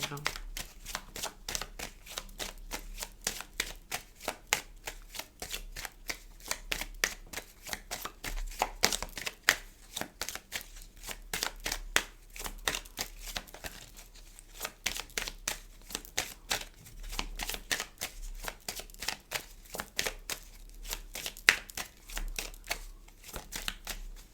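Tarot cards being shuffled by hand, a long run of quick, crisp riffling flutters and soft slaps that repeat steadily and close up, with faint talk underneath.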